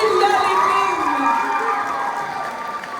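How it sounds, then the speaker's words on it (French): Crowd at a celebration for a provincial champion girls' school volleyball team cheers and applauds for one player, high excited shouts and whoops over a dense clapping roar. "On applaudit Julia Lépine."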